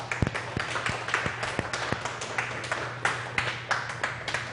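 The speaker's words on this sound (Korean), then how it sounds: "우리 모두 하나님 앞에 감사와 영광의 박수 한번 돌립시다" A church congregation at a teachers' training retreat claps in sparse, uneven bursts, with individual sharp hand claps standing out from a thin scattered applause over a steady low hum.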